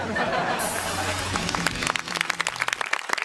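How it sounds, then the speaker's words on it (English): Studio audience applause on a late-night talk show, a dense wash of clapping that thins into scattered individual claps as it winds down, with a voice briefly heard over it. "Enough applause, I know."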